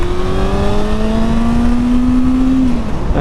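Honda Hornet 600 motorcycle accelerating hard on a dual carriageway, a steady loud engine note rising in pitch through the rev range, then dropping sharply near the end as it shifts gear, with constant wind and road roar.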